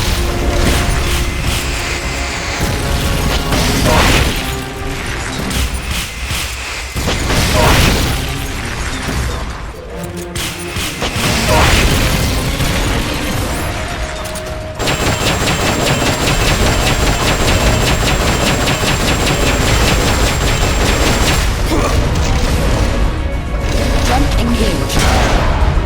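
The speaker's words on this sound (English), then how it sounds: "Firing rocket launcher." A rocket launcher fires and explosions boom in the video game Metal Gear Solid: Peace Walker, loud heavy blasts and mechanical rumble mixed with music and game voices.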